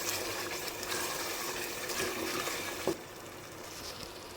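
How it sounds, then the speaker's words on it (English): Tomato puree stirred and frying in a pan with salt and seasonings gives a steady, soft sizzle and bubbling hiss, with a single sharp clink of a utensil near the middle. No voices are heard. "Stir fry the puree with these seasonings for 2 minutes"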